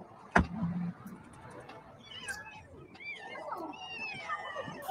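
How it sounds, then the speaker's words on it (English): Cats meow in a few soft, rising calls, fairly faint and partly mixed with people talking, plus a sharp knock near the start. "We're just ending with cats."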